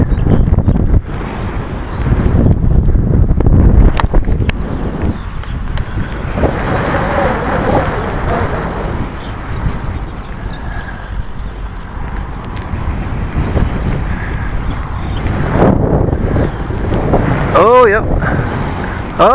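Strong wind blowing across a hillside slope while a small 120 g slope-soaring glider is flown, loud continuous buffeting on the microphone, with people talking and laughing over it.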